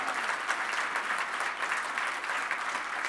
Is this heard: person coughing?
no